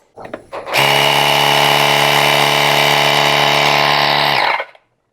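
An Andeman Epower-B05 jump-starter with built-in tire inflator starts up and runs with a loud, steady motorized buzz and drone for about four seconds, then winds down and stops.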